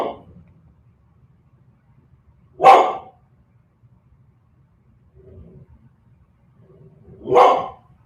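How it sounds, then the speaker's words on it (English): A dog barks twice, single loud woofs several seconds apart, with a faint whimper between them in an otherwise quiet space. "apologize for the dog"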